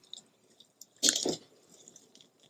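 Egg yolks are separated by hand, the whites straining through the fingers in a brief wet squelch near the middle, close and soft, with faint clicks on either side.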